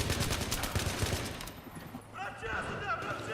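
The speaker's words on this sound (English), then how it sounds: "that is why I'm using the Glock 18" Rapid automatic bursts from a Glock 18 pistol in Battlefield 3, a dense rattling fusillade for the first half, then quieter sparse shots with game effects and a voice talking over it.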